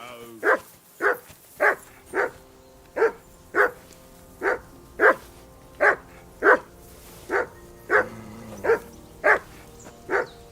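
A dog named Mutt in Kingdom Come: Deliverance 2 barks repeatedly in a steady, evenly spaced rhythm, about fifteen loud, close barks with a faint voice underneath.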